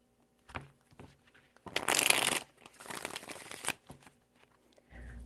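Tarot cards shuffled by hand in several brisk riffling bursts, close and fairly quiet, with short pauses between them.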